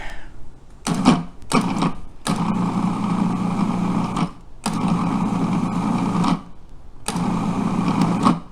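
A food processor whizzes quiche pastry dough in a series of loud bursts, a few short pulses followed by longer runs separated by brief pauses.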